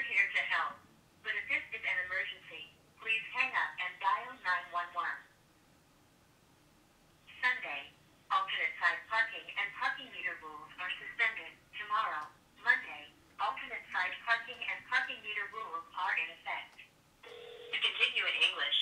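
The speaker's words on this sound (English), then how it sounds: "we're going to call the helpline of New York City, which is 311" A speakerphone call to the New York City 311 helpline, thin telephone-band recorded voice prompts and menu speech playing loudly with short pauses between phrases.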